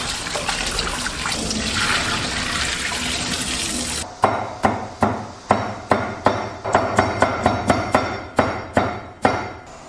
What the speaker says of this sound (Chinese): 冷水透一下。